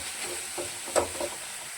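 Gentle, faint sizzle of chicken momo filling cooking in butter with a little salt in a pan, a steady soft hiss with a couple of brief stirring knocks.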